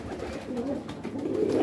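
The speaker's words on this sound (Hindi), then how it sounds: "अधिकतर कलसरे कबूतर हैं, छपे हुए कलसरे कबूतर" Soft, low coos from a flock of kalsara pigeons rise and fall over a faint background hum, with no talking.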